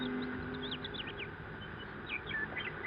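Birds call near a cliff on a farm in a radio drama scene: scattered high chirps and short tweets over a steady, faint outdoor hush.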